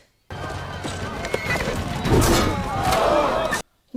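A horse whinnies and snorts amid hoof movement in a Game of Thrones episode, a loud, close, agitated burst lasting a few seconds with a clatter partway through, then cutting off.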